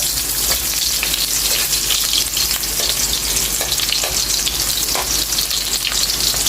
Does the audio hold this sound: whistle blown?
no